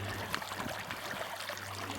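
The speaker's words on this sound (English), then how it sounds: "At least this inlet is just a mere flowing creek now." A small creek flows at a reservoir inlet, giving a steady close-up rush and trickle of water over a low hum, with no talking.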